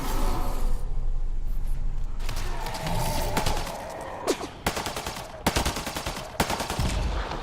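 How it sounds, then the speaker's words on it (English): A newly acquired rifle fires in the video game Mass Effect: Andromeda, bursts of gunfire cracking out in loud separate volleys over a steady game background rumble. "This is a good opportunity to test that new rifle."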